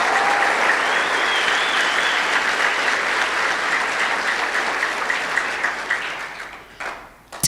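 An audience at a talk on character and personality breaks into sustained, dense clapping that holds steady, then thins out and trails off near the end.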